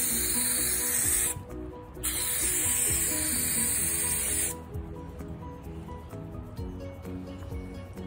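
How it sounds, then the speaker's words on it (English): An aerosol can of 2K clear coat sprays over a car panel in two loud, steady hissing passes separated by a short pause, then quieter handling noise follows. "then we're gonna start spraying the clear"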